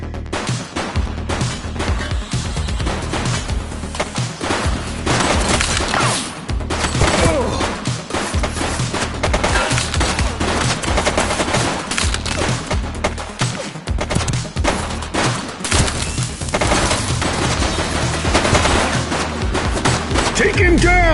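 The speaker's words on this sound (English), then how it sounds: "She's shooting!" Sustained gunfire from an armed suspect during a police shootout in the video game The Precinct, a loud, nearly unbroken stream of shots and bursts lasting about twenty seconds, with occasional crashes and a few shouted voices underneath.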